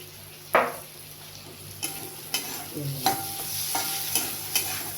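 Tomato masala with salt being stir-fried in a pan for an okra dish, with soft sizzling under repeated scraping strokes of a spatula, several distinct stirs spaced across the stretch.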